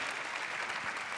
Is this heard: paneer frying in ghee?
no